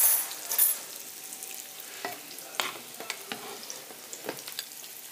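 Calf liver frying in a pan until golden and crisp, a soft steady sizzle with scattered small pops and crackles, close and moderately quiet, no voices.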